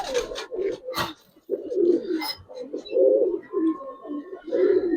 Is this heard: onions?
no